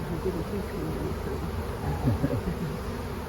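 Honeybees hum around an open hive during a hands-on beekeeping class, where brood comb holds fresh pollen; a low, steady droning buzz fills the background, with faint human voices mixed in.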